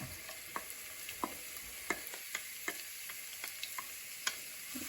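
Onion sautéing in a pan with ginger, garlic and green chilli for mutton stew: a soft steady sizzle, punctuated by regular light taps and scrapes of a spoon stirring, close and quiet, with no voices.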